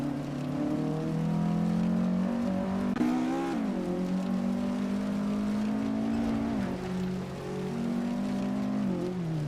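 Group 2 race cars in a racing video game howl along a track, a steady loud engine drone with rising and falling pitch through gear changes and passing cars.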